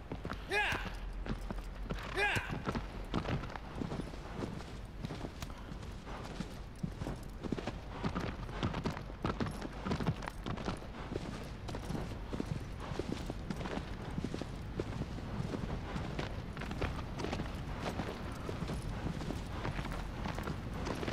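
A horse galloping in the video game Shadow of the Colossus, with steady rapid hoofbeats running through the whole stretch under someone talking.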